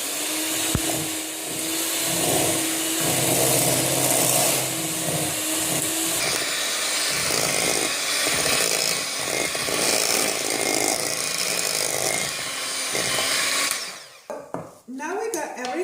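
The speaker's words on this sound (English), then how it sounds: "we're going to try to mix it with the hand mixer" A handheld electric mixer whirs loudly, beating keto cereal ingredients in a bowl. Its continuous motor buzz runs close and steady for about fourteen seconds, then cuts off, leaving scattered clatter and rustling.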